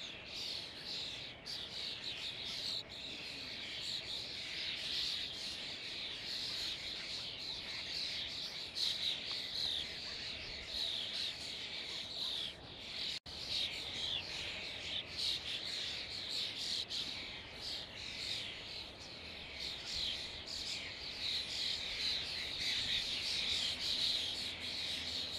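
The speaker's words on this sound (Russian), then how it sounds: "Молодые скворцы." Young starlings calling in a continuous chorus of high, rapid chirps and twittering, moderately distant and steady, with no talking over it.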